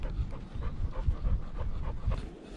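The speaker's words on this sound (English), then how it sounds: "This little muddy dog is jumping all the mud." A small muddy dog pants rapidly and steadily up close on a beach, a rhythmic breathy huffing with faint whimpers and no talking.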